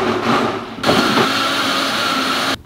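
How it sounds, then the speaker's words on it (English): A Vitamix blender, acting up, whirs loudly and steadily, its pitch shifting as the load changes, then cuts off abruptly near the end. "I have no clue what's wrong with my blender."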